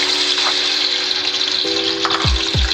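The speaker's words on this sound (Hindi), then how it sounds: "और इसको 1 सेकंड के लिए फ्राई करूँगी।" Ginger garlic paste hitting hot oil with garam masala in a pot, a steady loud sizzle and frying hiss throughout, with a couple of low clunks near the end.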